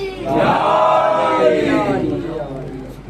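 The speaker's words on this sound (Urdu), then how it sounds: "میں نعرہ لگاؤں گا وہ ہاتھ اٹھائے، نعرے حیدری." A crowd at a Shia religious gathering roars back the Naara-e-Haidari chant, a swelling massed shout of many voices lasting about two seconds before fading.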